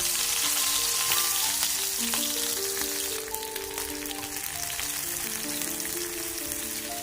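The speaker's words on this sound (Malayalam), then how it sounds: "ഉള്ളി പൊരിക്കുന്ന വെളിച്ചെണ്ണയിലേക്ക് നല്ല നെയ്യ് ചേർത്ത് കൊടുക്കാം ഒരു സ്പൂൺ" Sliced onions sizzle steadily in coconut oil with a spoonful of ghee, a dense, continuous crackling fry heard up close for several seconds with no talking.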